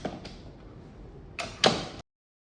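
A door opens after a NKLK500/520 smart lock unlocks by face recognition, giving a couple of close mechanical clicks and a short sliding, rattling movement before falling silent.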